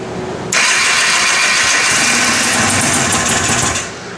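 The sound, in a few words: Arctic Cat 250 Trail Blazer engine cranking on full choke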